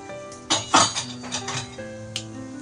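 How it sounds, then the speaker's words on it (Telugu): Mustard seeds tipped into hot oil in a pan for tempering an aloo dum curry, giving a few sharp metallic clinks and crackles against the pan, with brighter bursts near the start and a faint tap later. "ఇప్పుడు దీన్ని మనం పోపు వేసుకోవాలి. దానికోసం నేను కొద్దిగా ఆవాలు వేస్తున్నాను"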